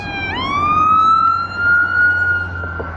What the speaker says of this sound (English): That's the second ambulance that just went by.